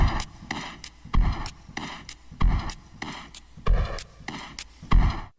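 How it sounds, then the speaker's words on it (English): Punchy sampled drum hits repeat in a steady loop, kick and snare-like thumps with a roomy reverb tail washing after each beat. "Let's add some reverb. Final drum kit sounds like this."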